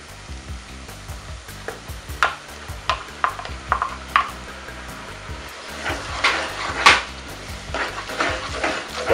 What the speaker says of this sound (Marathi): आता यात आपण हे जे आपण वाटलेलं वाटण आहे ते टाकूया.